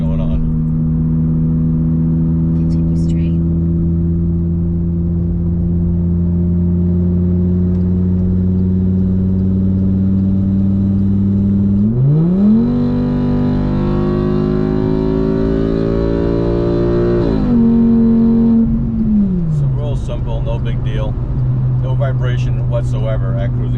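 A VW Golf 2.5 engine on density mounts with a billet dog bone drones steadily under a driver's talk, then revs up sharply in a quick acceleration pull, drops on a shift, and settles back to a lower cruising note.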